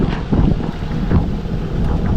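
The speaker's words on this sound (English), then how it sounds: "It's a bit windy today as well." Strong gusty wind at Piarco International Airport, Trinidad, buffeting the microphone with low rumbling roar, continuous and loud throughout.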